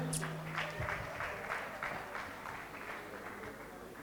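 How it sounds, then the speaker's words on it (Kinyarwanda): A comedy show audience breaks into clapping, a dense patter of applause that stays fairly even for a few seconds before thinning slightly, moderately loud and without clear speech over it. "Mu nkomera amashyi mbanze mbyiyumvemo."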